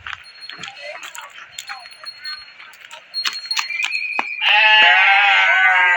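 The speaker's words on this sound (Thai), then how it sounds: "มาโซนที่5ก็จะเป็นแกะแล้วก็แบะเนาะพี่น้อง" Sheep and goats bleat at a farm, with several close, overlapping calls, some high and wavering, then a long loud bleat near the end; people talk intermittently underneath, and metallic jingling like keys is heard.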